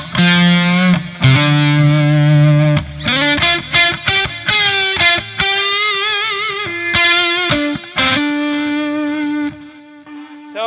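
Electric guitar lead played through a Fender Twin amp with delay and reverb, sustained distorted notes and bends ringing with echoing tails, loud and continuous without talk.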